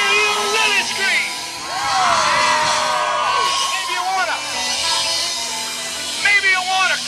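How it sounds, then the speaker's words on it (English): A concert crowd at an Elvis tribute show screams and whoops loudly, many shrill voices rising and falling together in sustained waves with a fresh surge near the end. "Let's hear you really scream."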